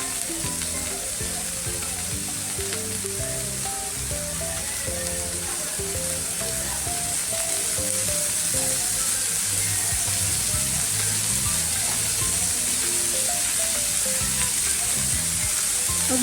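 Onion frying in a little oil for a bitter gourd curry, with a continuous, even sizzle at moderate level that holds steady throughout.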